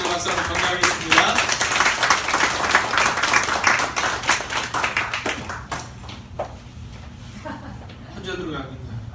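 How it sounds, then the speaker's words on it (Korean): A church congregation claps for the choir at a Sunday morning service, a sustained burst of applause under a voice, tapering off near the end. "우리 성가대를 위해서 한번 박수하는 시간을 가지도록 했거든요"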